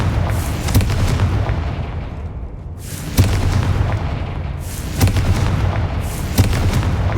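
Confringo fire spells explode in Hogwarts Legacy, a series of booming blasts roughly every one to two seconds, each a sharp crack followed by a rumbling decay, loud and alone.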